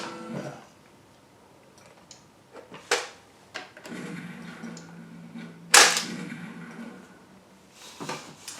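A mechanical light gun on a Time Crisis Arcade1up cabinet fires several sharp clacks spaced a second or two apart, close by, between quieter handling noises.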